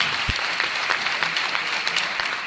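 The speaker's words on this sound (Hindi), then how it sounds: "एक बार थोड़ी सी ताली बजा दीजिए" Audience at a Hindi comic poetry gathering in America gives a close, continuous round of applause, dense and even, with a faint voice underneath.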